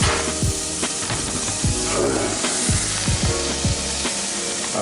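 Food sizzles loudly as it browns in a pan, with a constant frying hiss broken by scraping and knocking from stirring and moving the pieces around.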